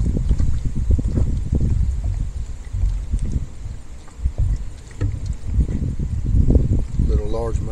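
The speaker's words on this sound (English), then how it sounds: "It's windy this morning. Probably 15-mile-an-hour winds." Strong gusty wind, around 15 mph, buffets the microphone outdoors during a fall bass fishing trip from a boat, a steady low roar rising and falling in rushes with brief rustling.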